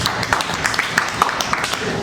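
A church congregation claps in a steady, rhythmic beat over a short stretch, with a voice faintly heard alongside.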